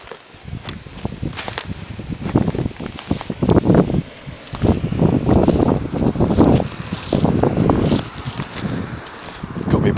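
Breezy wind buffets the microphone on a sunny Thames riverbank, a loud, continuous rushing roar that swells and dips in gusts, with faint rustling underneath and no talk.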